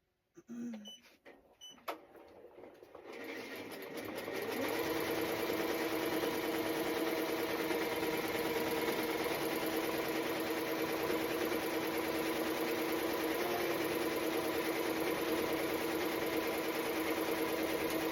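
Close, steady embroidery machine drone stitching a glitter HTV reindeer design on a T-shirt, starting after a few clicks and then running continuously at an even, fast rhythm.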